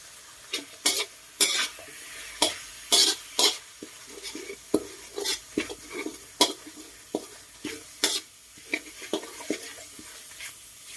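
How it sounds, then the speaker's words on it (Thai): Thai curry paste stir-fried in coconut milk that has split and released its oil, for a banana-stem curry: repeated scraping stirs and clinks of utensil on pan over a low sizzle, steady and close, with no talk. "นำพริกแกงลงไปผัดนะครับ"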